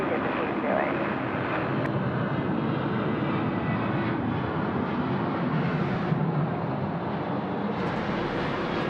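An airliner landing at night on runway 16 right at Sydney Airport, a steady, fairly loud engine roar that holds without a break, with voices faintly underneath.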